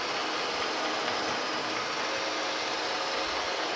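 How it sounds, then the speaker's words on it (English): A metal lathe takes a light cut on a new shaft for a New Haven metal planer, giving a steady, even mechanical whir and grind that runs unchanged throughout. "I sped my lathe up, the RPMs up just a little bit."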